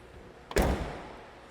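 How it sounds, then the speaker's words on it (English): A single solid door slam on a 1988 Chevrolet IROC Z28 with factory T-tops, one close thud with a short decaying rattle in an otherwise quiet space. "Doors close great."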